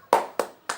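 Three crisp hand claps land in a quick, even rhythm during a children's song, close and distinct with short gaps between them.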